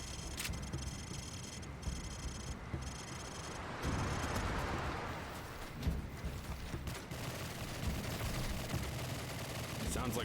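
Gunfire at a shooting range in a Call of Duty custom campaign mission: irregular bursts and rapid volleys of shots, fairly distant and muffled, repeating across the stretch over a busy, rumbling game background.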